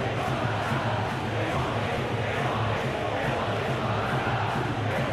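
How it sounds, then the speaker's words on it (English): Stadium crowd noise in a PES football video game during a Spain vs England Euro 2024 final, a steady dense roar of massed voices that holds loud and even throughout with no clear peaks. "Crowd appreciates good football all round there."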